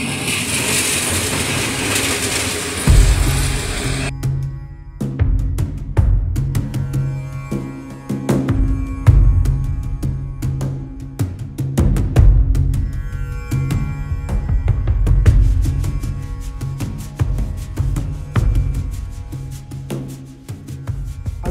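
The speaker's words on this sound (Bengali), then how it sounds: "আমি এখন আছি চট্টগ্রাম রেল স্টেশনে।" A train at Chittagong railway station, with loud rolling rumble and rhythmic clickety-clack of wheels over rail joints, occasional squeals and clanks, continuous and close.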